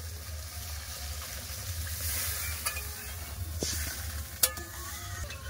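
Water poured into a sizzling, oil-releasing spice masala for a katla fish curry, with steady frying hiss, stirring scrapes and a few sharp clinks and spatters over a low background hum.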